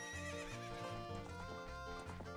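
A video game horse gives a loud, close neigh over galloping hooves, with music playing underneath.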